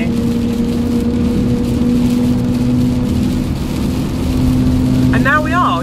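Steady engine and road drone from inside a van overtaking another vehicle on the road, with a constant tonal hum and a brief rising whine near the end.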